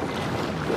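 Water sloshes inside a large plastic tube as it is shaken, a brief continuous rushing swash heard up close, with no speech.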